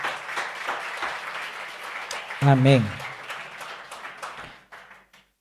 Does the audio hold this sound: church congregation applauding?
yes